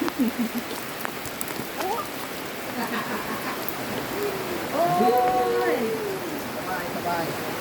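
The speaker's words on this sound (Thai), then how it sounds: "บรรยากาศฝนตกนะคะฝนตก" Steady rain hisses across surfaces throughout on an island near a boat pier, with a voice talking softly partway through over the constant patter.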